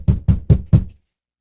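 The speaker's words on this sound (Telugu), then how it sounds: "బయట ఉన్న పెద్ద చెక్క తలుపు మీద ఎవరో బలంగా కొడుతున్న శబ్దం." Four hard, evenly spaced knocks land on a big wooden door, heavy and close, before the sound stops into silence.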